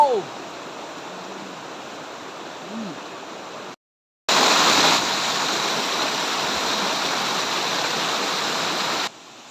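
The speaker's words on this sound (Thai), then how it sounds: "น้ำตกนะทุกคนเป็นน้ำตกที่สวยมากนะทุกคนนะนี่" A waterfall beside a campsite gives a steady rushing roar that drops out briefly, then returns louder and continues, with a few faint voices early on.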